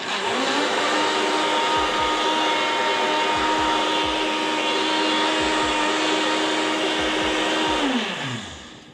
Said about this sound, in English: Sorry, I was blending up my shake.